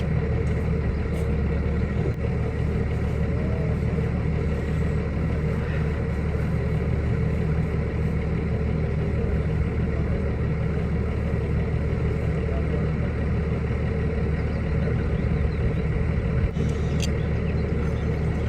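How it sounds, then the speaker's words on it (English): A tractor engine runs steadily in the background outdoors during tree felling for planks, a constant low rumbling drone that holds at even loudness for the whole stretch without pause. "The tractor's on in the background."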